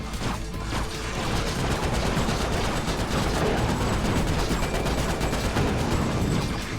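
Viper guns in Ratchet: Deadlocked rattling off a dense, continuous stream of rapid shots, loud and close, layered over clanking game effects with no talk.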